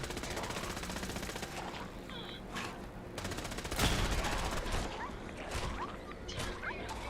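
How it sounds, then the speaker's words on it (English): Rapid bursts of Gauss rifle gunfire in the game Fallout 4 crackle over a dense, busy mix of in-game noise, with one heavier blast near the middle and scattered whooshes afterward. "Gotta have the Gauss rifle."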